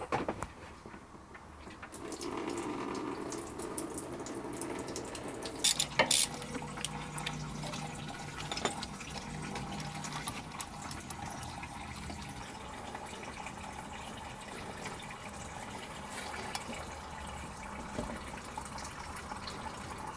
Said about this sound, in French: je peux laisser le circuit de refroidissement se vider de son contenu